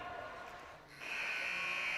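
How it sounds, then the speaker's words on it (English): A period-ending buzzer at a college hockey game between Utah State and the University of Utah blares as a loud, steady sustained tone starting about a second in and holding to the end over arena crowd noise. "the buzzer just went off"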